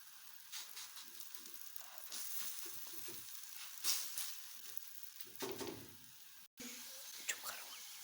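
An aloo patty on a hot tawa griddle gives a quiet, uneven sizzle with soft scraping and bursts of hiss, and a brief gap near the end.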